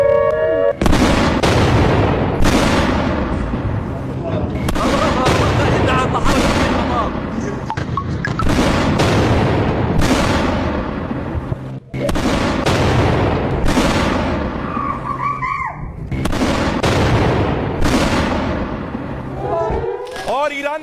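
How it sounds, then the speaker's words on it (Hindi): Missile strikes exploding in Israel: a relentless series of loud, sharp blasts and crackling bursts packed closely together, with voices mixed into the din throughout. "ये देखिए जरा, इजराइल में मिसाइल गिरी"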